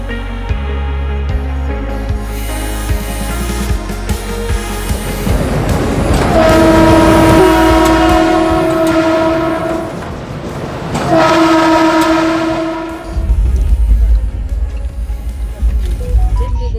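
Steady rumble and rattle from inside a moving train carriage, with a long sustained horn blast sounding twice over the running noise.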